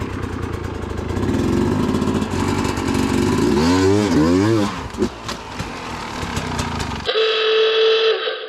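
A hard enduro motorcycle engine revs hard on a forest climb as the rider works the clutch, with loud, close droning and rising and falling pitch sweeps before the engine note cuts to a thinner, steady whine.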